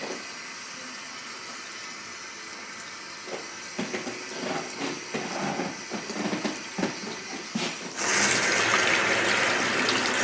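Water runs steadily from a tap, with splashing and clattering as hair dye is rinsed out, growing louder and fuller toward the end.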